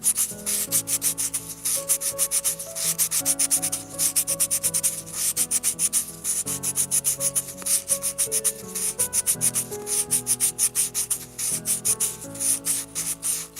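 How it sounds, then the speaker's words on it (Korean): Rapid rhythmic rasping of 400-grit sandpaper smoothing a miniature bowl, rubbing back and forth, close and continuous, with a steady scrubbing pulse and background music underneath. "400번 사포로 이제 매끈하게 정리해주는 단계입니다"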